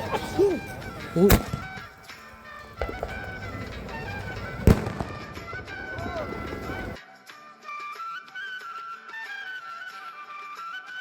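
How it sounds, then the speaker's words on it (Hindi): Diwali firecrackers burst nearby with loud sharp cracks and whistling fizzes, set off by a group of friends, while people talk and shout over the crackling outdoor celebration. "अपने दोस्तों के साथ पटाखे चलाकर एंजॉय किया"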